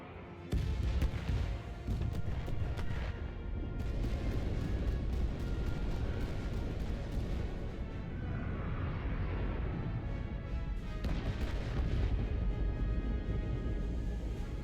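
Starship weapons fire and explosions in the Star Trek Resurgence video game: a dense, continuous wash of booming blasts and crackling impacts, loud and steady throughout, with sharper bursts near the start and toward the end.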